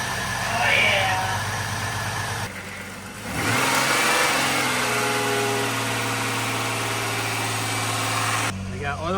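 A freshly rebuilt Jeep engine after its first start-up, held at a steady fast idle for break-in, a loud continuous drone with a brief dip and a voice speaking over it.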